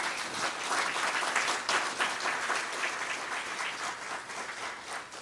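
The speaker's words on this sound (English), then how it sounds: "So a big round of applause for all of them." Audience applause at a Tibetan parliamentary event honoring translators: a sustained, even wash of many hands clapping, moderately distant, that fades a little toward the close.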